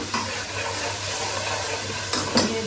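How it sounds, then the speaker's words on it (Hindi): Water is poured into a pot of rice (2.5 glasses of rice, 5 glasses of water, with garam masala and salt) in a home kitchen, giving a steady close splashing wash with a few louder splashes near the end. "मैंने 5 गिलास इसमें ऐड करूँगी पानी"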